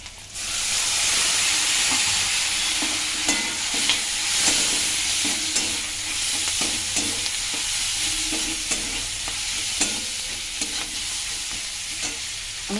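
Tomato and browned onions fry in a pan, giving a loud, steady hissing sizzle with intermittent stirring scrapes throughout, heard up close without any talking.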